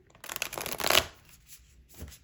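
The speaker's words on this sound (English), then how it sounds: "So I'm gonna shuffle, give it a little shuffle, and see if I can." A tarot card deck with gilded edges is shuffled close up in a quiet room, giving a quick riffling flutter of cards followed by a brief softer tap as the stack settles.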